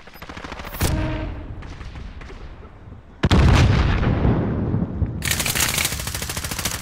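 Heavy military airstrike in a video game: a sharp burst at the start, then a loud, sudden blast about midway followed by sustained rumbling and crackling explosive fire that swells again near the end, with no voices.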